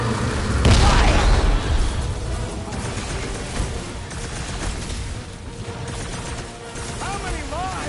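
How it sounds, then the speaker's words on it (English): Bombs detonate in a chaotic Guardians of the Galaxy video game battle, with a loud boom early on and then dense rumbling, bursts and crashes piled under a steady stream of talk. "Watch those bombs! I'm not about to get blown up now!"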